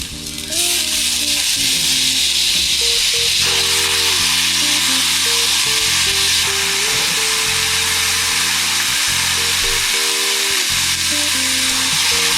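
Steady, loud sizzling of garlic frying in a pan for vegan carbonara, with a constant hiss and a droning hum beneath it the whole time.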